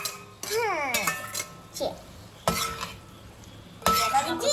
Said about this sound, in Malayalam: അപ്പൊ നല്ലോണം മിക്സ് ചെയ്ത് കൊടുക്കണേ